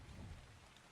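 Rain in the Ark Survival Ascended video game on the Ragnarok map, a dense, steady downpour with a low thunder-like rumble, filling the whole moment with no voices.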